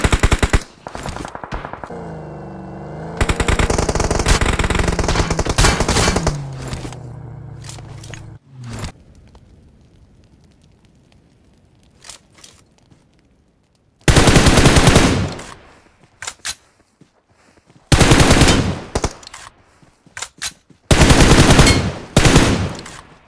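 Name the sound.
gunfire from the video game PUBG Mobile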